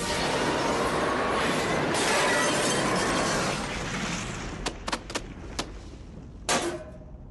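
A heavy crash with breaking glass sounds in a cartoon, a loud sustained smash and rumble giving way to several scattered sharp clinks and tinkles of falling shards.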